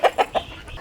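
Two young guinea fowl keets give three quick, sharp chirping calls in a row, close by, followed by quieter faint peeps.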